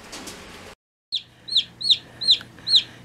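Chickens cluck near newly hatched chicks, a short scratchy burst giving way after a brief silence to four evenly spaced, close, clear clucks over a low steady hum.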